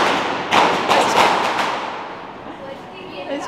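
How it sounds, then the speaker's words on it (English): Diwali fireworks go off across an Indian city, a dense, roaring wash of distant bangs and crackles with several sharper booms near the start, then a steadier rumbling clamor that slowly thins out. "It's just fireworks, literally, all over the city, inside the buildings, outside the buildings."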